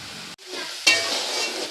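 Bottle gourd halwa stirred in a pan on a full flame, sizzling with a brief pause and then a sharper scrape as a spoon moves through it, no voices.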